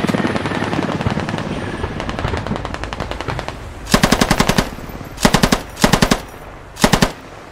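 Automatic gunfire from a squad-based shooter video game: a long run of rapid shots, then four separate loud, sharp bursts with short gaps between them.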